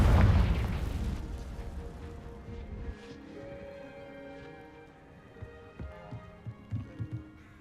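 The Confringo blasting spell goes off in a video game as a loud, deep boom that fades into a rumbling tail. Faint clicks and small pops follow near the end.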